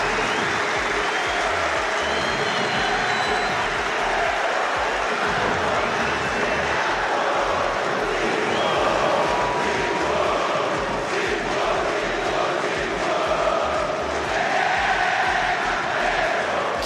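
Flamengo football supporters fill a stadium with a dense, steady roar of massed singing and clapping, the chant rolling on continuously and loudly throughout.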